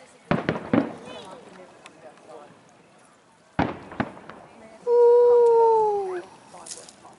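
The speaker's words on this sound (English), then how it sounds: "there's more people setting off fireworks" New Year's Eve fireworks being set off, with a few sharp bangs and crackles near the start and another burst midway, while people talk nearby and a loud rising whistle or howl enters near the end.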